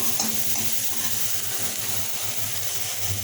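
Prawns with turmeric, salt, coriander powder, green chilli, garlic and onion fry in a pan, a continuous close sizzle with stirring scrapes and no voices.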